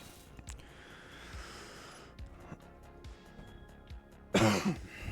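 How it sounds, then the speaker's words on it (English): A single loud cough bursts out near the end after quiet background noise and soft clicks. "My apologies for coughing."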